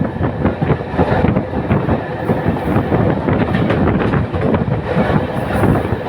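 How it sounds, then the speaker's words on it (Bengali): Banalata Express passenger train rolling across the Jamuna rail bridge in daytime, a loud, continuous rumble with steady clickety-clack of wheels on rails and wind buffeting the microphone throughout. "ট্রেন একটি কার নিয়ে প্রবেশ করছে সেতুতে।"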